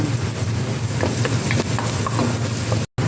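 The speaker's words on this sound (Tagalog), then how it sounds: "Yan, ilalagay na po natin ang ating bawang." Garlic goes into onions frying in a pan for carbonara, giving a loud, steady, close sizzle that runs throughout and cuts out briefly near the end.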